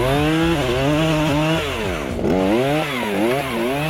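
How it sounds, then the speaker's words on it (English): A Husqvarna backpack chainsaw clearing young forest, its engine loud and close, pitch sweeping up and down as it revs and bogs while cutting, with no voices. "But the new backpack chainsaw can make spacing physically easier and more efficient."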